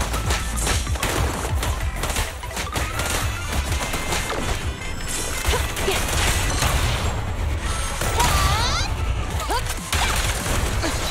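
Gunfire in Zenless Zone Zero, a dense, continuous barrage of shots and crashing impacts in a busy, loud combat mix, with voices calling out over the action.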